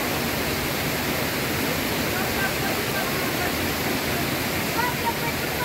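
A waterfall in the Abkhazian mountains roars with a steady, dense rush of falling water that holds evenly loud and close throughout, with no break or change.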